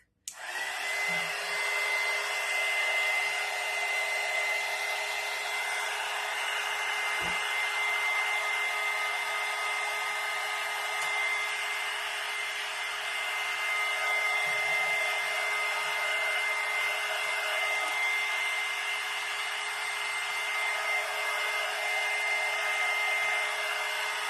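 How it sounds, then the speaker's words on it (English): A hair dryer blows on freshly painted paint sticks being made into a winter window decoration. It gives a steady, loud, close whir with a constant high whine, starting abruptly and running without a break. "now I'm going to go ahead and hit this with the dryer real quick"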